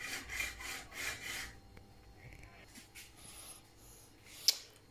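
A few strokes of a hand saw cutting a part for a Speedway Mini 4 Pro electric scooter close by, rhythmic rasping at first, then quieter scraping and a small tap.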